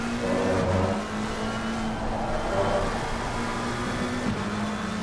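Race cars battle side by side at Indianapolis in a racing video game, a sustained engine drone with shifting revving pitch from several close cars, loud and continuous with no voices.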